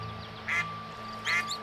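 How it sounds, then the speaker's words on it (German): Ducklings in a children's bedtime audio story quack twice, short bright calls spaced about a second apart over a faint steady background hum. "Auch die Entli haben gesehen, dass der Flick jetzt bei ihnen reinpasst und schnattern freudig."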